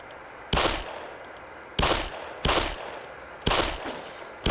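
Gunfire in the video game Black Mesa, set in a white office area: four loud, sharp shots at irregular intervals, each with a brief echoing tail, alone against a steady low background hum.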